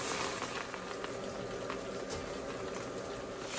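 Water in a cooking pot bubbles at a steady simmer as rice goes in for pulao, a soft continuous boiling hiss with faint pops, close and quiet.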